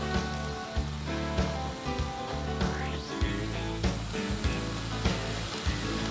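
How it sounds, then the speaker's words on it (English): Lamb steaks sizzle on a grill with a steady, crackling hiss, close and continuous, broken by a few sharp pops and clanks as the meat is laid down, with a brief spoken word near the start. "Now we can lay these lamb steaks on the grill."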